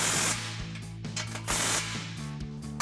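Air impact wrench with a 14mm socket tightening the exhaust clamps on a Chevrolet Silverado 1500 MBRP Armor Lite single exhaust, in sharp rattling bursts separated by brief hiss-filled pauses, close and loud.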